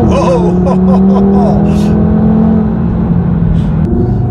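An Audi TT engine revs loudly and close up, its pitch climbing and settling into a steady drone across the whole clip.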